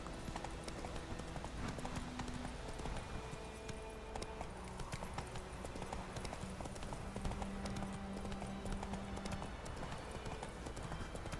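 Hooves of Roach, a horse ridden through farmlands in The Witcher 3: Wild Hunt, clip-clop in a steady rhythm and stay close and prominent under game music, with a brief snort or whinny.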